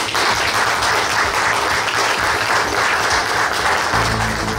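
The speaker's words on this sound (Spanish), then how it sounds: "Yo creo que eso merece un fuerte aplauso." Audience applause at a regional government ceremony handing over the keys of a contingency hospital in Villa Rica, Peru; dense, steady clapping from a large crowd fills the whole stretch at full loudness.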